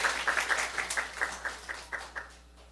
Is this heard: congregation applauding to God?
yes